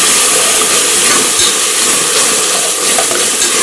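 Onion masala paste hits a hot pan with browned onions, giving a loud, continuous bright sizzle that holds steady throughout without speech.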